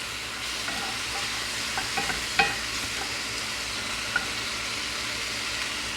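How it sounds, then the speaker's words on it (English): Food browns and sizzles steadily in a hot pan, a continuous close frying hiss with a few light scrapes and clinks of stirring, no voices. "I'm just going to continue to brown this"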